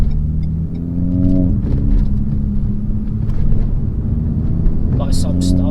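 A Renault Megane accelerating on a road test drive after a brake upgrade to EBC Yellowstuff pads, its engine note rising loud and close under steady cabin rumble, with someone talking over it.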